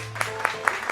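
Four evenly spaced hand claps from children in a kindergarten lesson, crisp and close over a steady background hum.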